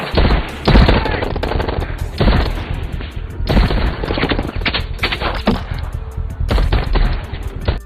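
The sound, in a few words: gunfight gunfire in a film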